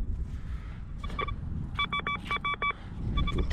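A Golden Mask 4 PRO metal detector sounds short electronic tones at old castle ruins, first a brief beep and then several rapid repeated beeps, with a final short burst over low outdoor background noise.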